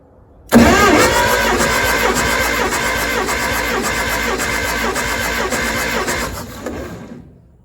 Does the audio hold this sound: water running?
no